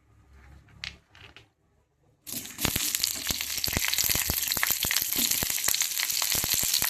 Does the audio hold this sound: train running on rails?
no